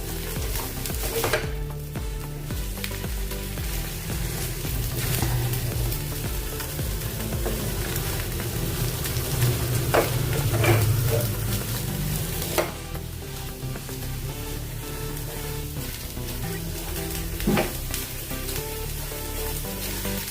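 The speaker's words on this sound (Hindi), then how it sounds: "इसको अच्छे से तेल छूटने तक भून लेंगे अभी मसाले को" A spice masala with Kashmiri chili powder sizzles and fries in oil while being stirred, a continuous close crackle broken by occasional sharp clinks of a spoon against the pan.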